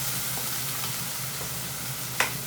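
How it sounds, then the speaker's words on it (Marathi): Masala with crushed peanuts roasting in a pan for a green hyacinth bean curry, giving a continuous close sizzle with faint stirring and one brief scrape near the end. "बघा किती छान असा भाजलेला आहे मसाला"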